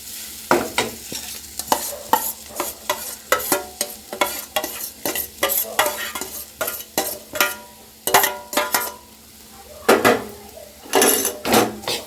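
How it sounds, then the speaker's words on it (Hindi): Coarsely ground peas are roasted in spices in a pot, with a spoon scraping and stirring in repeated loud strokes, clinking against the metal over a faint sizzle. "हम डालेंगे इसमें मटर जो हमने दरदरा से पीस कर तैयार किया है। और इसी मसाले में हमें इसे भूनना है"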